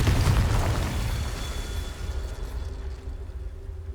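A Confringo blast spell explodes in Hogwarts Legacy, a loud heavy boom that hits at once and then rolls off into a long, rumbling decay with no talk over it.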